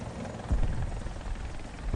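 A helicopter in War Thunder thuds along with a steady low rotor chop and engine drone, loud and close.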